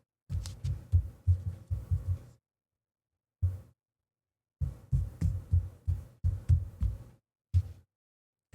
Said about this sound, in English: Now let's see how it does with handling noise.